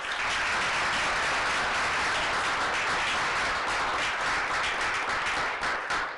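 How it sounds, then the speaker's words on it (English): Audience applause for award winners at a school board meeting, dense steady clapping filling the room for about six seconds with no talk over it. "A round of applause for our winners."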